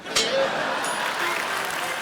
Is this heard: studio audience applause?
yes